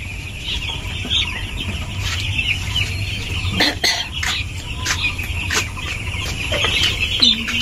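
A group of white chicken chicks peeping continuously and close up, their high, thin calls overlapping in a busy chorus over faint background noise.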